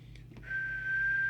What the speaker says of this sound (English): Let's see where we are at 2 with the whistle test.